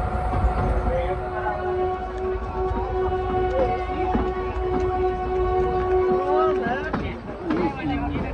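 Narrow gauge heritage train on the Bilimora–Waghai line rumbles steadily with rattling carriage noise and a sustained horn tone for several seconds, while passengers talk over it nearby.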